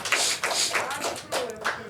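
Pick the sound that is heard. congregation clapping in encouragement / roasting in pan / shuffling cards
congregation clapping in encouragement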